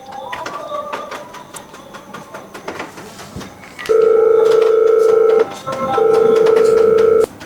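A phone call rings out as two long steady electronic ring tones, loud and close, separated by a short gap, after a stretch of softer clicks and tapping.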